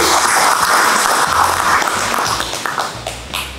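A large crowd applauds steadily at a parliamentary plenary session of the regional council, a dense wash of clapping that holds loud and continuous before easing slightly toward the end.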